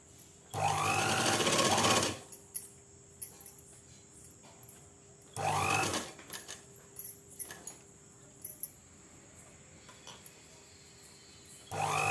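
A sewing machine stitches salwar pants in bursts of loud, steady whirring, a couple of seconds each with pauses between them, close up. Fabric handling and light clicks fill the gaps.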